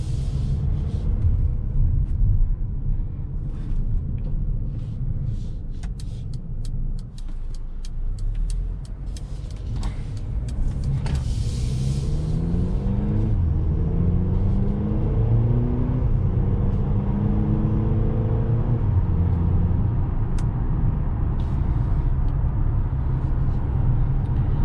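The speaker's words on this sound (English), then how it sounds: "let's go ahead and take it on a test drive and see how this" Inside a 2021 Mercedes-Benz GLA with an 8-speed dual-clutch transmission on a test drive, a steady road rumble fills the cabin while the engine note climbs in rising sweeps as it accelerates through gears, with no talking.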